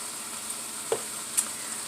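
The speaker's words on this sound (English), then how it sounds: "So I'm going to let these saute down a little bit. They're still frozen." Frozen vegetables sautéing in a pan with Asian seasoning, a soft steady sizzle with a couple of brief utensil clicks against the pan.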